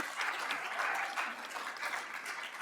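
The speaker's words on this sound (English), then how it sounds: "And just again, a big round of applause, please, for Georgia and Cajun." An audience claps for Georgia and Cajun at a St. Patrick's Day Shamrock Soiree, a dense steady round of applause lasting a few seconds with faint voices mixed in.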